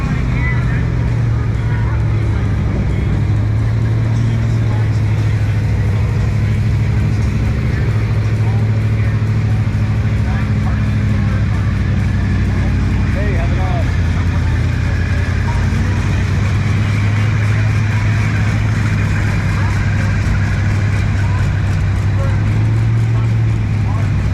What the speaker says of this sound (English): And they just continue to roll in, car after car.